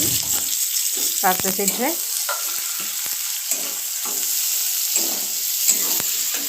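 Onions frying in a pan for a cauliflower curry, a steady loud sizzle throughout with brief stirring scrapes over it.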